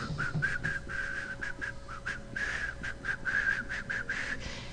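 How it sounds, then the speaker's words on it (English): Breathy, wordless whistling of a shamanic protection song, a series of short airy whistled phrases in a steady melodic rhythm, close and moderately loud with no talking. "It is a breathy whistle."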